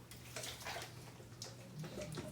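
Egg-enriched white sauce poured from a pan over cooked beef for a pasticcio, giving a steady wet, sloshing pour that continues throughout at moderate, close volume with no talking.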